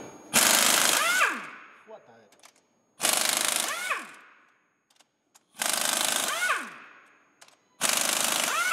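A power tool with an E12 socket loosens the cylinder head bolts on a BMW E90 M47N2 diesel engine, four loud, close bursts of rattling impact hammering, each about a second long and followed by a short whine, with pauses between.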